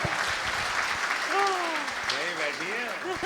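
An audience at a Hindi poetry recital (kavi sammelan) in Hapur claps steadily throughout, a dense wash of applause with a voice speaking over it partway through.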